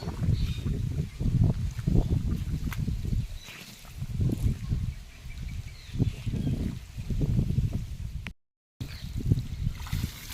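Steady rushing water runs continuously with low churning surges, close by, briefly cutting out near the end.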